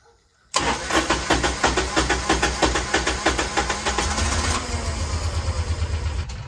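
A piece of equipment's engine cranks briefly, then catches and runs with a steady, pulsing throb close by, settling into an even idle with no talking.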